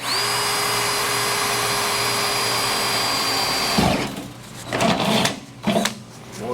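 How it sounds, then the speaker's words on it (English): A step drill (uni bit) bores through metal while preparing a Holley Sniper fuel injection fitting: a steady high-pitched drill whine runs for nearly four seconds, then stops, followed by a few short clattering bursts. "These uni bits are the best thing ever."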